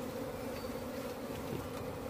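Apis cerana indica honey bees at a hive during colony division, a dense, steady buzzing drone that stays continuous and close throughout, with no voices.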